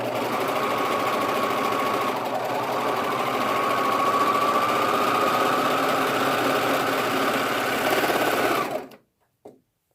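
Sewing machine chain stitching swimsuit seams, a steady loud continuous motor whir held for about nine seconds before stopping abruptly, followed by a couple of small clicks.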